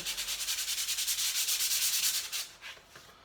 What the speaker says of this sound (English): I'm just going to give these a quick fine sand